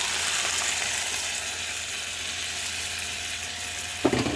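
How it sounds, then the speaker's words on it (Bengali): Prawns already sautéed in a pan sizzle with a steady, moderate crackle, a louder scraping burst near the end as coconut milk goes in; no voices. "এবার আমি নারকেলের দুধটা দিয়ে দেবো।"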